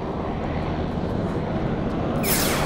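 An SH-60K helicopter engine drones steadily and loudly up close, a constant turbine roar and rotor rumble, with a rising high whine swelling near the end.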